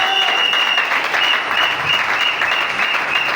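A church congregation at a Sunday service applauding and cheering the Lord, dense steady clapping from a large crowd, loud and continuous with no speech over it.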